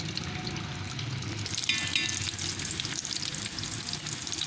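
Chicken pieces fry in hot oil for KFC-style broast, a dense, continuous sizzle and crackle heard up close, with a brief stirring scrape partway through and no talking.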